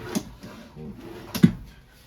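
A drawer in the kitchen of a 2022 Heartland Pioneer BH250 RV opens and shuts, giving two short wooden knocks about a second apart at close range, with faint background noise between them.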